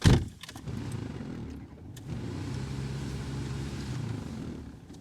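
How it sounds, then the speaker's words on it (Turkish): A car being pulled into position: a steady, low engine hum runs close by for several seconds after a brief bump and rustle at the start, with no speech over it. "arabayı bir çekelim şuraya"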